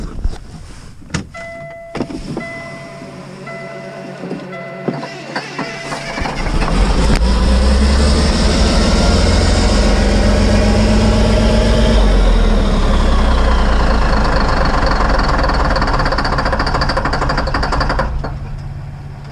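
A Morbark 2355 flail chiparvestor has a few scattered clicks and knocks at first, then its engine cranks and spins loudly for about ten seconds with a churning, rising mechanical roar before dropping away.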